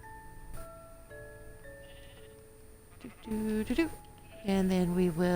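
Minecraft sheep bleat in a few short bursts inside the game, one after another and fairly loud, over a soft steady background tone.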